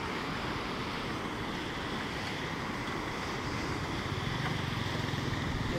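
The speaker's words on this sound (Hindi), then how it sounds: "ये इधर से पानी आ रहा है, ये देखिए, और इधर को पानी जाता है।" Water rushes steadily under a long, narrow village footbridge used by motorbikes, bicycles and walkers, a continuous broadband wash with no voices.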